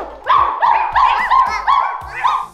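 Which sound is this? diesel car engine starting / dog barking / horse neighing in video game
dog barking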